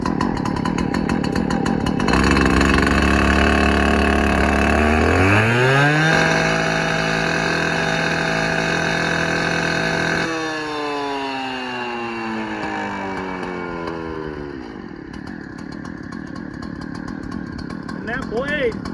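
Makita saw engine idling after warm-up, a buzzing two-stroke drone that revs up, holds high, then drops back to a steady idle, close and loud throughout.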